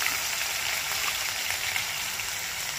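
Onion and ginger paste frying in a pan, a loud, continuous crackling sizzle that holds steady from start to finish with no voices.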